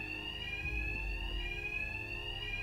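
A fire-style alarm in Batman: Arkham Knight rings continuously at a steady high pitch, loud and unbroken across the short stretch, with low rumbling game ambience underneath and no talking.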